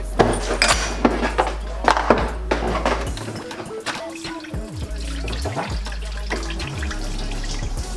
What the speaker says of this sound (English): And there goes all the water.